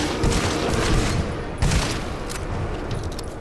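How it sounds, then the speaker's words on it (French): Gunfire from shooting an enemy in the video game GTFO, a dense rattle of rapid shots with a couple of heavier bursts, sustained and fairly loud throughout, with no talk. "Ok, je vais tirer sur celui derrière."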